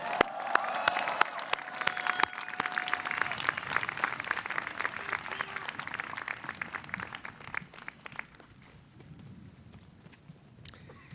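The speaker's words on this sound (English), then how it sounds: "Give yourself another big round of applause." Graduation audience of business and engineering graduates applauding, a dense wash of many hands clapping that holds strong then gradually thins and fades toward scattered claps.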